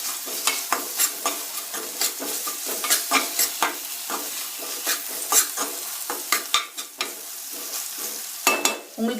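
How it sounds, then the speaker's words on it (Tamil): A spoon stirs cooked dal with a pinch of turmeric in a pot for sambar, giving repeated irregular scraping and clinking strokes close up over a faint sizzle, with no talking. "கிளறி விட்டுக்கலாம்."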